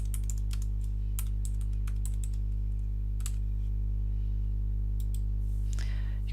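Computer keyboard typing a customer name into an invoice form, scattered key clicks in short bursts over a steady low electrical hum, with a soft rustle at the end.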